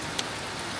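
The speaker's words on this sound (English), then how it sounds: "It started raining" Rain falls steadily outdoors, a dense even hiss of drops with one brief sharper patter, continuous and alone without talking.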